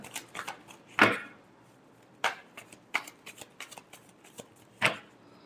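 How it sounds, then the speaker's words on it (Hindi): Tarot cards are shuffled close up in a quiet room, giving a handful of separate sharp papery riffles and taps spaced irregularly over a few seconds. "last shuffle"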